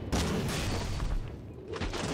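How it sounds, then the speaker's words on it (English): Explosion in the video game Animus: Revenant, a loud, dense rumbling blast with crackling bursts filling the short moment, heavy low end dominating throughout. "don't ask me what the explosion up there is"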